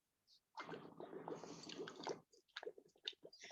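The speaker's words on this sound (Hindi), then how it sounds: "आप ग्लासेस में डालिए पानी।" Water being poured into a glass container during a class-six science lesson, a close liquid splash and trickle running for about two seconds, then a few brief drips and clinks with no talk over it.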